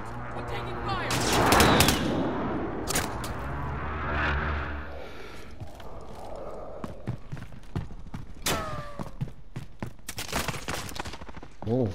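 Gunfire on Rebirth Island in Warzone Cold War: scattered loud rifle shots and quick bursts cracking near and far, mixed with heavy impacts and game effects, while players talk over the action.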